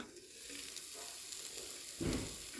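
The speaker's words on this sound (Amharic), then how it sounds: "አሁን እንግዲህ ወደ መጥበሻ።" Food fries in a pan on a home stove, a soft steady sizzle that swells briefly near the end as something is stirred or added; no one speaks.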